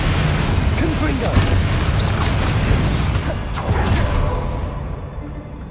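A Confringo fire spell blasts in the video game Hogwarts Legacy, a loud, dense rush of booming, crackling noise with a few sharper bursts that holds steady for several seconds before easing slightly.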